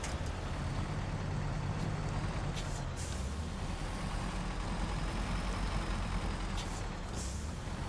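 Truck engine in the off-road driving game SnowRunner, a steady broadband rumble and hiss that runs unchanged from start to finish, with no voices.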